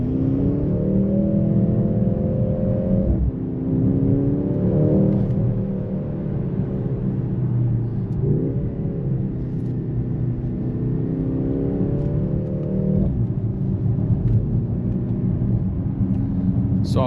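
A 2025 Mercedes-AMG GLC 63 S E Performance hybrid coupe revs hard, its engine note climbing loudly and dropping at gear changes roughly every five seconds, with no voices over it.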